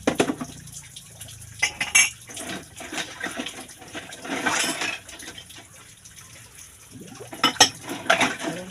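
Glasses and plates clink and knock together in water, with splashing and running water between the sharp clatters of dishes being washed.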